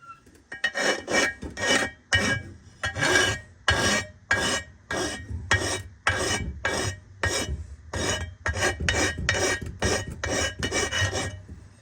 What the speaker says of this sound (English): Just doing some deburring here.